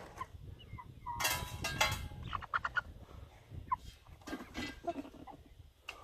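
Small female chicken on a farm, giving short clucks and squawks in irregular bursts, close and fairly quiet, with some handling rustle and brief clatter around it.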